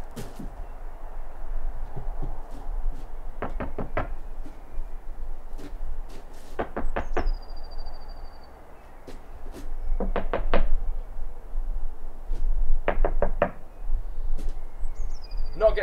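Someone tries the door handles of a Tesla car, producing clusters of sharp knocking and clicking taps in short bursts several seconds apart, close and fairly loud over a quiet background.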